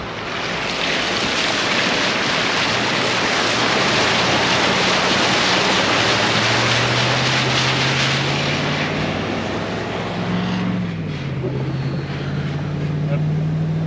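A vehicle towing a caravan drives through the water of Eli Creek on Fraser Island, giving a loud, steady wash of rushing water and surf under a droning engine whose pitch rises and falls.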